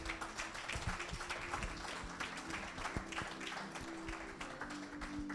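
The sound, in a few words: audience applause at graduation ceremony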